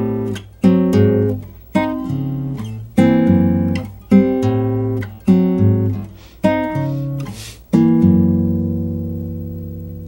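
A bossa nova guitar turnaround on a guitar, with chords struck just ahead of the beat: about seven crisp chord strums in a syncopated rhythm, closing on a ringing held chord, played alone and close.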